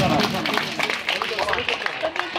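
An audience claps at a school prize-giving ceremony, a dense, steady patter of many hands filling the room, with voices mixed in beneath it.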